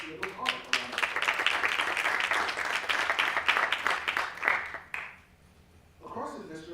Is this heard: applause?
yes